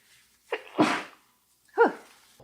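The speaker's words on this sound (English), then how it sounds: "I'm gonna sneeze." A close human sneeze with a short catch of breath before its main burst, followed about a second later by a second, quicker sneeze, with quiet pauses around them.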